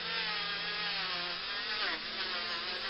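Steady rotary buffing whir of a hubcap on a Dinky toy car wheel being polished, a continuous bright abrasive hiss held at even loudness for the whole stretch with no voices.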